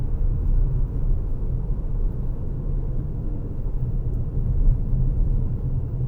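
A Jeep Compass Trailhawk driving over bumps, heard as a steady low rumble of road and engine noise from inside the cabin, constant and fairly loud throughout.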